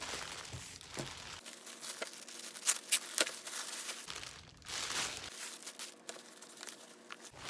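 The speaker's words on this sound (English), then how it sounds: "let me go ahead and unwrap this little cutie" A Coach Outlet purchase is unwrapped from a plastic bag, with close, faint crinkling and rustling in irregular bursts and brief pauses between handling.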